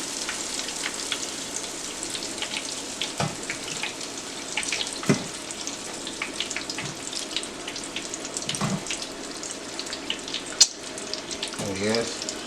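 Cajun shrimp deep frying in hot grease give off a steady, close sizzle, broken by occasional clinks and splashes as pieces are dipped and lifted out.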